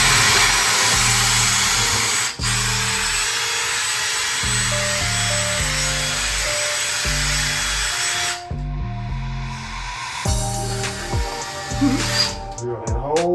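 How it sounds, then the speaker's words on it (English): A power drill whirs in repeated bursts, drilling a hole while installing a bathroom hand soap dispenser, starting and stopping several times, close and loud, with brief pauses and a clatter near the end. "Drill that hole."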